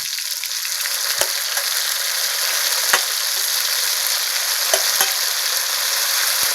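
Ground spice pastes of green chilli and onion hit onions and tomatoes already fried red in a pan for a river fish curry, sizzling with a steady hiss and a few sharp stirring clicks, close and loud.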